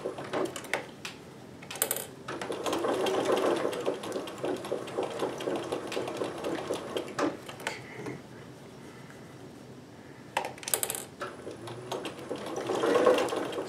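A sewing machine stitches with a zigzag foot, giving a rapid mechanical chatter that runs in bursts with short pauses between them, mostly alone and fairly close.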